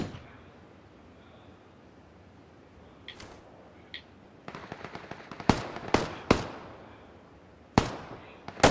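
Gunfire in the PUBG video game, a quiet stretch broken by a rapid burst of shots followed by several loud single cracks spaced a second or two apart.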